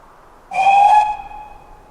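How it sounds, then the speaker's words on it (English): A single sustained whistle blast with a hissy edge sounds for about half a second, then fades into a lingering tone over quiet background. "That sounds like a whistle, she thought."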